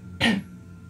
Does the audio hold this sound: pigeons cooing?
no